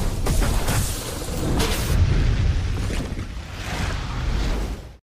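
A deep, rumbling bomb blast in a zombie film rolls out and lingers, followed by a second swelling boom before cutting off abruptly.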